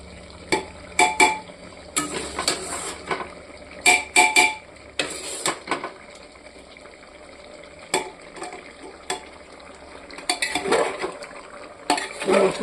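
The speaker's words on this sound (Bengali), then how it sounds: "বন্ধুরা, মশলার সাথে মাংসটা কষিয়ে নিচ্ছি।" Meat being sautéed with fried spices in a pan, with loud, irregular bursts of spatula stirring and scraping over a quieter background sizzle.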